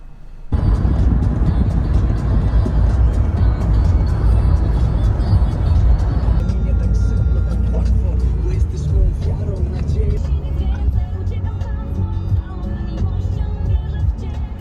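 A car pulls away and drives along a road, a loud steady engine and tire rumble heard from inside the vehicle, with people talking over it.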